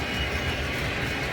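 A LionChief Plus model train runs by on a layout with a steady, continuous rumble and rolling clatter that stays loud throughout.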